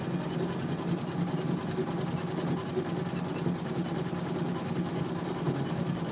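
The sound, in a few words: Janome 550E sewing machine stitching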